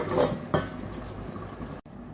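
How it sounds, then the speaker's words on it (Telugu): A metal lid is set back onto a pressure cooker of chicken dum biryani, giving a short clanking knock of cookware near the start over a quiet kitchen background. "మళ్ళీ ఒకసారి మూత పెట్టుకుందాము"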